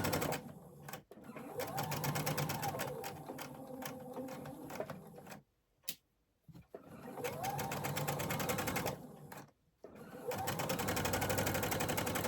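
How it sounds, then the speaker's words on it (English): A sewing machine back stitching the lining of a bag, running in two steady whirring bursts with brief pauses between them and no voices over it. "This is the lining of the bag, bottom of the bag, so I'm leaving an opening there. I'm back stitching"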